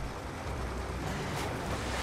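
A waterfall in the Serious Sam 2 video game roars as a constant broadband rush of falling water, steady and fairly loud with no voices.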